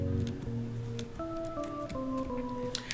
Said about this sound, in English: we start off with a chill pad